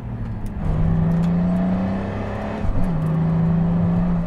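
A Pagani Huayra Roadster BC engine drones loudly through a corner, its tone holding steady, then dipping briefly and rising again as the car works through the bend, up close with no talk.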